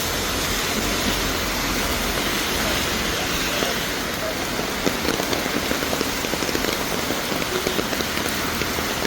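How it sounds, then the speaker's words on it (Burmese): Rain falling steadily on a street, a dense, even hiss of drops hitting the pavement that carries on unbroken at close range. "မိုးရွာရဲ့လမ်းလျှောက်တာပျော်လိုက်တာ"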